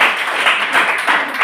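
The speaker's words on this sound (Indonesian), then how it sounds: "Tepuk tangan." Students applauding in a classroom, a dense, steady wash of clapping from a group heard close and fairly loud for a brief moment.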